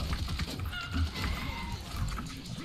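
A chicken in the Paladins video game, with repeated clucking and squawking bursts in a choppy rhythm against game noise.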